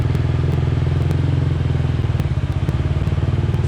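Yamaha Raptor 250 ATV engine idling close by with a rapid, even single-cylinder putter while the clutch is eased out, steady and loud with faint clatter on top.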